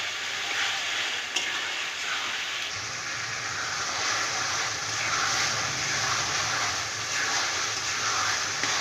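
Chicken fries in a pan with salt, a dense, continuous sizzle close by, and a spoon moves through it, adding intermittent scraping and stirring noises.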